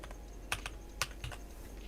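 Keys clack on a computer keyboard in a short, irregular burst of crisp, close taps over a quiet background hum.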